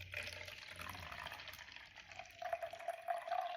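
Iced coffee is poured from a Hyper Chiller: a quiet, close stream of liquid trickles and gurgles, growing slightly fuller toward the end, alone and faint.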